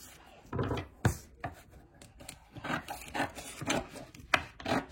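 A Silhouette Cameo cutting machine slicing cardstock, with irregular bursts of scraping and tapping from the blade and carriage, close and moderately loud, no speech.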